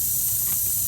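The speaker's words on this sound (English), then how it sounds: "Those are all combined pretty good sized air leaks." Pressurised air escapes from leaking lines and a T fitting on an Eagle bus with a Detroit Diesel 6V92TA engine, giving a steady, close hiss that stays broad and even for the whole second with no voices.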